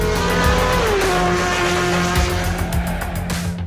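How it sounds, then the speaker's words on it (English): A Volvo S60 Polestar TC1 touring race car with a turbocharged four-cylinder engine, roaring loud and close with a sustained engine tone that shifts pitch as it revs, tires squealing over a few seconds before it fades at the end. "the winner of the FIA World Touring Car Championship race in Shanghai, China, the Volvo S60 Polestar TC1."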